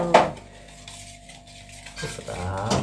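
A utensil clatters and scrapes against a pot while food is stirred: one sharp clinking burst at the start, then softer, steady scraping with a faint sizzle, close by.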